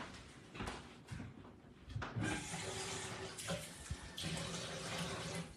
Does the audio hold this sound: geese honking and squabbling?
no